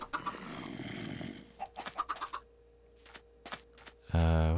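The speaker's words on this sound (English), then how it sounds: "Some baby chickens." Chickens in the Minecraft video game make short, clipped clucks in a quick cluster over a low background hum, followed by a louder buzzy tone at the end.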